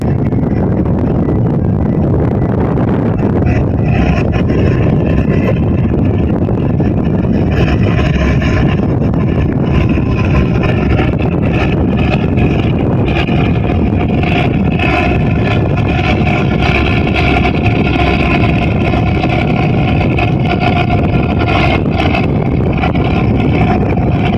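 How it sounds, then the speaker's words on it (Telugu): A boat engine drones loudly and continuously at sea as three boats tow a sunken boat, mixed with heavy wind buffeting and rushing water, with no voices heard. "నడిసంద్రంలో మునిగిపోయిన బోటు మూడు బోట్ల సహాయంతో ఎలా లాక్కొస్తున్నారో చూడండి"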